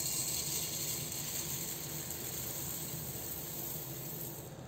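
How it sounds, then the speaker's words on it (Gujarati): Whole coriander seeds sizzle in hot ghee, a loud, dense, steady hiss that holds evenly throughout and fades slightly at the very end. "ઘી ગરમ થઈ જાય એટલે એની અંદર આખા ધાણા"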